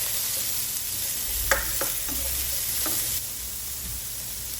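Garlic, onion and chili sizzle in a hot pan for low-carb pinakbet, a steady frying hiss broken by a few clattering stirs, easing slightly toward the end.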